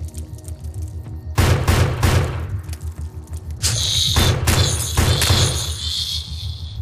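Pistol gunshots in the video game Defiance, several loud sharp cracks in two bursts over ambient game sound.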